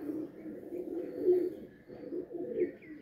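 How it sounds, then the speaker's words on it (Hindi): Pakistani fancy pigeons coo in soft, repeated rolling phrases, close and moderately loud, with a brief pause partway through. "है कबूतर है जनाब"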